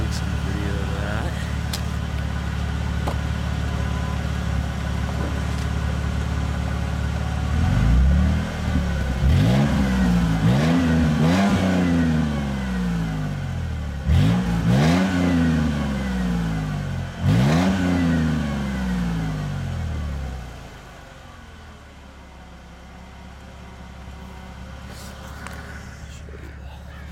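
A modified car's exhaust revs repeatedly, four or five sharp throttle blips rising and falling over a steady idle, loud and close, before settling back to a quieter idle near the end.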